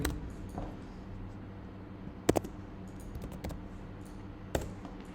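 Keys tapped on a computer keyboard in short, scattered bursts of clicks, close by, with a few sharper keystrokes over a low steady hum.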